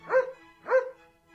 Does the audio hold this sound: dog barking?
yes